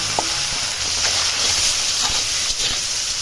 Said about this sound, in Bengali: ডিমগুলো ভাজা হয়ে গেছে আর সবজি দিয়ে দিয়ে দিলাম